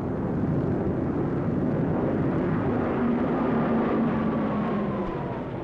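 Japanese WWII military airplanes flying overhead, a dense, loud roar of piston engines with a slowly sliding drone, sustained and near throughout with no voices.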